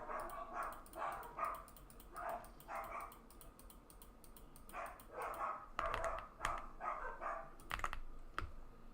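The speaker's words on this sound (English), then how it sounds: "There they go again, barking at random stuff." Dogs in the video game Minecraft yip and bark in short bursts, several sharp barks clustered near the end, over a faint background with occasional clicking.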